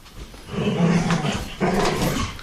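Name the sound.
dog growling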